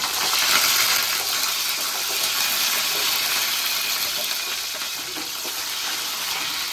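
Mustard seeds and fenugreek splutter in hot oil with a continuous close crackling hiss and fine popping throughout.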